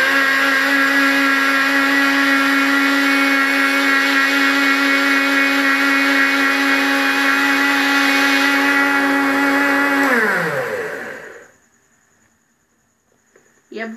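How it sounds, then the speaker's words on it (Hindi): A blender grinds mango pulp with cream for ice cream, a loud, close, steady whir that runs for about ten seconds before winding down in pitch to near silence. "फिर आपने इसको ग्राइंड कर लेना है। आइए हम इसे ग्राइंड कर लेंगे।"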